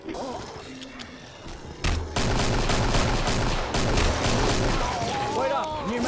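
Shotgun blasts and other gunfire ring out in the co-op shooter Killing Floor, with a sharp loud crack near two seconds followed by dense, sustained combat noise and chaotic effects under bursts of voices.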